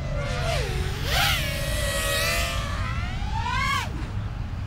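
A Flywoo XBOT3 3-inch HD toothpick FPV drone on Gemfan 3018 bi-blade propellers whines loudly in flight, its pitch dipping and climbing with throttle changes over a constant rushing background.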